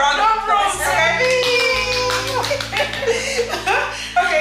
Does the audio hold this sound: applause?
yes